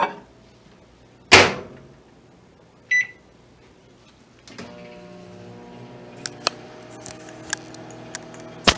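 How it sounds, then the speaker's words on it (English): A door clunks shut and a beep sounds, then a microwave hums steadily with a low drone and occasional clicks. "Time to put this sucker in the microwave."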